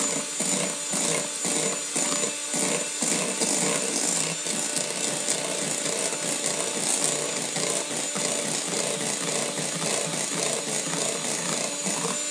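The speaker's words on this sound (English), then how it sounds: "You can whisk. It's not a cheap whisk, the one I'm using, it's just a hand whisk." A hand whisk beats chocolate cake batter in a bowl, a loud, continuous rapid scraping and rattling with a fast, even rhythm throughout, close up and with no speech.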